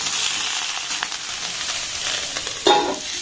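Pointed gourd (potol) fries in a kadai over a low to medium gas flame, a steady close sizzle with soft stirring, and one sharper clatter near the end.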